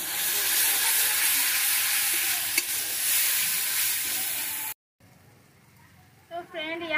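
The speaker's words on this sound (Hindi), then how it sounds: "अब हम इस मसाला को डालकर अच्छे से भूनेंगे।" Masala spices frying with tomatoes in hot oil for bhindi masala, a loud steady sizzle and stirring hiss that cuts off abruptly, followed by quiet and a brief voice at the end.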